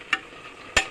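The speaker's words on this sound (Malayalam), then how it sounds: "അപ്പോൾ ഇനി നമുക്ക് വേപ്പില ഇട്ട് കൊടുക്കാവേ" Curry leaves hit hot oil in two short, sharp sizzling bursts, the second louder, with quiet crackling in between.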